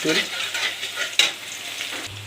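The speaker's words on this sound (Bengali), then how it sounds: "কড়াইয়ে গরম তেলটাকে দিয়ে দিলাম।" Hot oil sizzles steadily in a wok while cooking taro masala, with scraping stir sounds and a brief sharper crackle midway, close and fairly loud with no talking.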